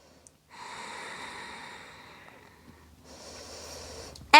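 Slow, deep breaths during a yoga stretch for the back: a long, soft airy inhale that stops at a short pause, then a second long breath. The sound is close and quiet, and a brief louder rustle comes at the very end.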